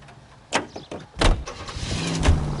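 In the video game L.A. Noire, a car sets off with a few sharp thumps, like doors shutting. A rising, sustained engine rumble follows as it pulls away, up close and with no speech.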